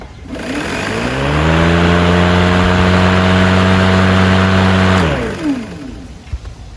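Ego battery-powered self-propelled lawn mower spins up with a rising electric whine, holds a loud steady hum for several seconds, then winds down and stops, close by with no talking.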